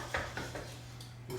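Polenta stirred vigorously in a pot on the stove, with a few scraping, knocking strokes of a utensil against the pot over a steady low hum, with no speech.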